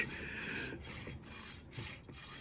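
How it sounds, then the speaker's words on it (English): A hacksaw cuts into a machined metal part in rhythmic rasping back-and-forth strokes, about five or six passes, close and moderately quiet with no speech. "Cutting into it with a hacksaw."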